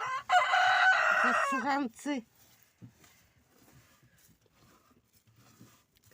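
Chickens crow and cluck loudly up close for about two seconds, followed by quieter scattered clucks and rustling.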